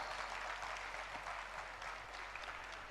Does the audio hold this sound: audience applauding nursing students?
yes